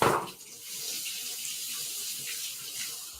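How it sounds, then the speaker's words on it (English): Raw eggs are held under a running kitchen tap before cracking, for zucchini, ricotta and tomato muffins. A short splash opens onto a steady, close hiss of flowing water, with no talking. "running them under some water before cracking them, so I've just done that."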